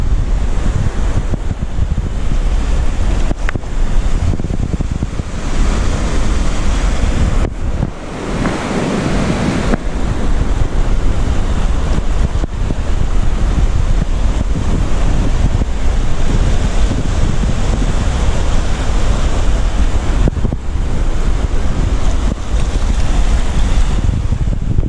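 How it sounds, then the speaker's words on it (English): Steady roar of surf and gusting wind on Saltwick Bay beach, loud and continuous, with wind buffeting the microphone throughout and no voices. "Right, so we're on the beach now"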